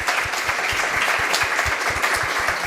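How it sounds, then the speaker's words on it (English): Audience members at a panel event clap for the panelists, a continuous moderately loud patter of hands with some distinct individual claps near the microphone throughout. "Please give a big applause to our panelists here."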